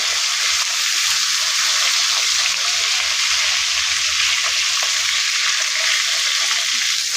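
Fish and fish heads fry in a pan, a loud, continuous bright sizzle and crackle that stays close and steady throughout, with no one talking over it.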